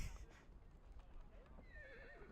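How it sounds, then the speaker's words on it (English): Distant neighing from many horses at once drifts through a busy game soundscape on the steppe in Reverse 1999, with hoof clatter, a low rumble and a rising, wavering whinny near the end. "The sound of dozens of horses neighing at once echoes from somewhere far away."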